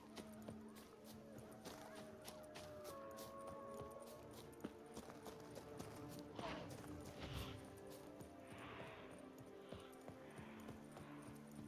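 Roach the horse trots in The Witcher 3 game, soft rhythmic hoofbeats clip-clopping faintly over low background game sounds.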